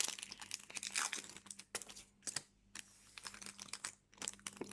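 Foil Yu-Gi-Oh booster packs torn open and handled, with bursts of crinkling and ripping separated by short quiet gaps, close up and fairly soft, with no talking.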